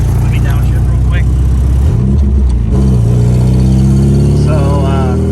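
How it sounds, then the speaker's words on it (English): A rebuilt KA24DE engine in a Nissan 240SX drops a gear and revs, loud and close, with the engine note dipping and then climbing steadily over continuous droning road noise. "let me downshift real quick"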